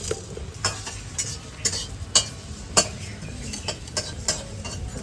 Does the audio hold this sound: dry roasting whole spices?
yes